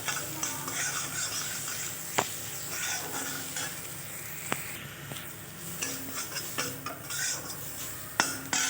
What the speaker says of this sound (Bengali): নিয়ে সামান্য একটু তেলেই পেঁয়াজ আর লঙ্কা কুচিটা দিয়ে একটু ভেজে নেব।